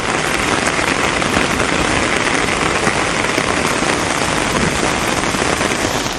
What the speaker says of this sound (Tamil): மாவட்டத்தின் பல்வேறு பகுதிகளில் கனமழை பெய்தது